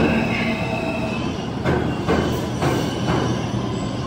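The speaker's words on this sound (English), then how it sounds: "there's a train that just passed" A New York subway train rumbles loudly past the 86th St station platform, a sustained steady roar with rhythmic wheel clatter and faint squealing, no talking.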